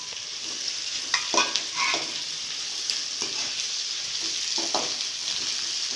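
Crushed ginger and garlic fry in a pan with a steady, close hiss. A few spatula stirs and spits stand out above the sizzle, and no one speaks.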